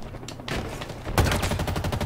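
Rapid bursts of gunfire ring out in a Halo video game PvP match, loud and close, with a sharp heavier volley partway through.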